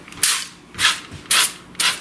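Canola oil cooking spray is sprayed onto a pan for baked fish in four short, sharp hissing bursts spaced about half a second apart, close and fairly loud.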